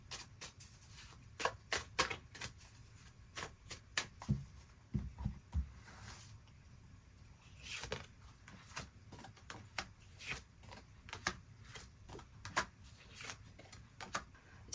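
Tarot cards are shuffled and drawn close by, giving soft, irregular flicks, taps and sliding rustles in scattered bursts at low volume.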